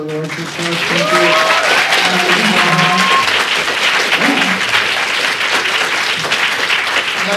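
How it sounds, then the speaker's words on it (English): Audience at a game design lecture applauds steadily and loudly at the close of a talk, a dense wash of clapping that starts almost at once and holds for several seconds, with some voices mixed in. "Let's have a round of applause for Laura."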